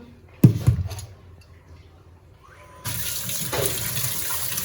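A few clattering knocks of items being handled, then a kitchen tap opens and water runs steadily and fairly close as the items are washed beneath it.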